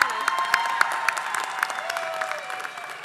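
A commencement crowd claps for the student speaker at a university winter graduation ceremony, a steady roomy wash of applause with sharp individual claps standing out and a faint tone running underneath.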